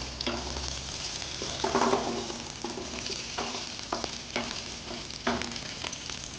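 Green chilies sizzle and fry steadily in hot oil in a pan for a brinjal fish gravy, a continuous close crackle with occasional stirring scrapes and no talking.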